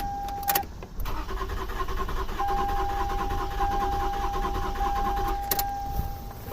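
A 2005 Toyota Sienna with a 3.3L engine is cranked over, a sustained mechanical whirring churn for several seconds, close and fairly loud, with a faint steady whine running through it.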